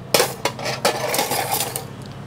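Metal pots and a frying pan clank and clatter as they are handled, several sharp close knocks in quick succession with no talk.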